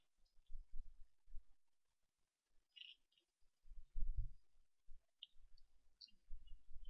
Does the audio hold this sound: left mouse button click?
yes